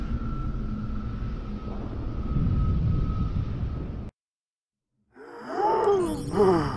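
A Covenant Phantom dropship comes in to land in Halo 3: ODST. Its low droning hum holds steady, drops to a brief silence, then returns as whining, sweeping engine tones.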